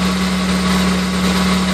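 A car engine idles steadily close by while still fairly cold, a constant low hum with a smooth buzzing drone and no change in pitch or speed.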